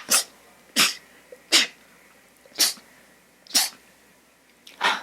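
Six sharp sneezes in a row, evenly spaced about a second apart, close and loud against a quiet background.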